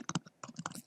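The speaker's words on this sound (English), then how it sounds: "I can hear you typing your article right there" Typing on a computer keyboard, heard through an open microphone on a call: quick, uneven clusters of close key clicks with a short pause midway, faint overall.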